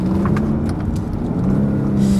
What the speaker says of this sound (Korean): 엔진 사운드 많이 들어오네요, 스포츠 모드에서.